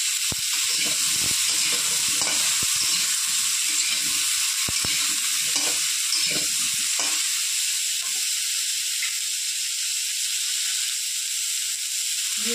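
Cauliflower pieces frying with a little turmeric and salt in a pan, a steady loud sizzle throughout with occasional stirring scrapes and knocks, no voices.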